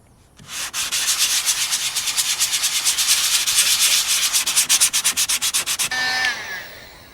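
Rhythmic back-and-forth sandpaper strokes rub over cured Evercoat fiber reinforced jelly filler on an osmosis-blister repair, steady and close for about five seconds before stopping.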